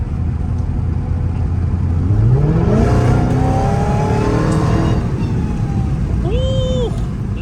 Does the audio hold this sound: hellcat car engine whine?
yes